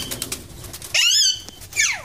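Grey parrots flying about inside a cage, with bursts of wing flapping and rising and falling calls coming in two loud close spells over a softer rustling background.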